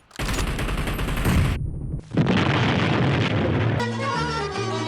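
Loud, dense bomb blast and explosive gunfire in the game Hangar, an M24 match, roaring continuously, cutting out briefly, then resuming with a sharp burst near the end.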